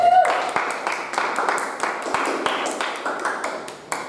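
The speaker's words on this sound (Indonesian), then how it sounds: "tentu kita beri plus tepuk tangan ya." Students in a classroom clap their hands in a brisk, rhythmic burst of applause, close and fairly loud, beginning after a short ping.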